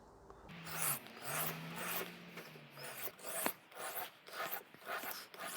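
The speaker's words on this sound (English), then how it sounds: "I can turn over the stone to the smooth side. So this will just be a few passes on each side" A kitchen knife is drawn in a few slow passes across the smooth side of a sharpening stone, giving soft rhythmic scraping and rubbing strokes, close and fairly quiet with no talking.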